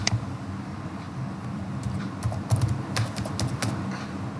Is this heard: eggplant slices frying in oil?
no